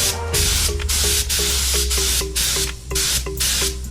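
Bursts of aerosol spray paint hiss onto a motorcycle tail section in a home setup, about eight or nine short rhythmic sprays close to the microphone with brief gaps between them.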